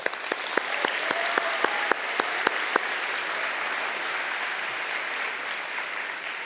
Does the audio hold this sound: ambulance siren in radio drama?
no